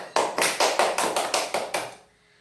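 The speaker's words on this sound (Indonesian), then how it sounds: "kita berikan aplaus." A class of high-school students applauds a group presentation in a classroom, with about nine distinct, fairly loud bursts of clapping in a steady rhythm that stop abruptly.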